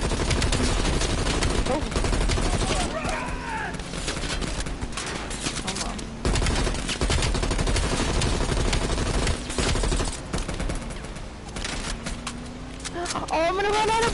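Dense automatic gunfire from Call of Duty Cold War plays loudly and almost without a break, with sharp shots over a rumbling game soundscape while a player talks excitedly over it.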